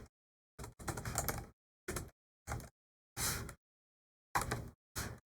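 Bursts of rapid keystrokes on a computer keyboard while configuring a network switch's Ethernet port, with clusters of clicks separated by short silent pauses, close and fairly quiet, no talking.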